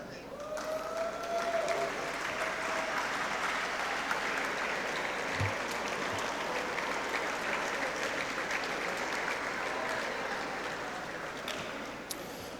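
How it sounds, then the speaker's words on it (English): Applause and cheering from athletes standing for their parents at a high school athletic banquet, a steady wash of clapping from a large room with crowd noise throughout. "I want you to stand up and applaud your parents"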